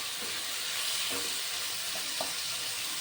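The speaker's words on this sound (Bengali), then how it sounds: "এবার টমেটো, পেঁয়াজ, কাঁচা লঙ্কা, আদা, রসুন একসঙ্গে করে খুব ভালো করে আমি ভেজে নেব" Tomato, onion, green chilli, ginger and garlic frying together in a pan for an aubergine and egg dish, a steady soft sizzle with a few faint stirring clicks close by.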